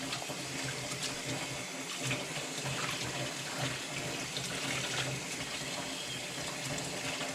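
Tap water runs steadily into a kitchen sink while creasy greens are rinsed, a continuous close splashing hiss with small sloshing variations throughout and no talking.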